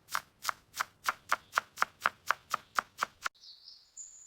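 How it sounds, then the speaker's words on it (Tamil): A quick, even run of about a dozen sharp knife chops through spring onions on a board, then a brief high squeak as the chopping stops. "கழுவிய ஸ்பிரிங் ஆனியனை சிறியதா நறுக்கி கொள்ளலாம்."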